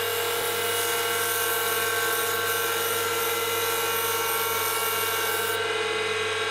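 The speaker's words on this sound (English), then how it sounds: "square the end on a grindstone. Like so. And then at an angle, put a bevel on the blade." A bandsaw blade end ground to a bevel on a powered grindstone in a workshop, a continuous high whine with a steady low motor hum, loud and unbroken.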